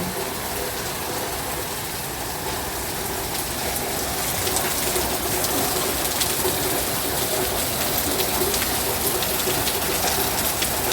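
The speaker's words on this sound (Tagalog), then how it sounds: "sarap nag-start na naman yung ulan" Rain falling steadily in Quezon City during nonstop downpour, a dense continuous patter on surfaces that swells slightly louder midway, with faint bird cooing in the background and no talk.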